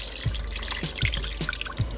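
Water poured into a pressure cooker for a dish with white cooking wine and tomatoes, heard as a run of liquid splashes and drips at close range, fairly loud and rhythmic, with no talking.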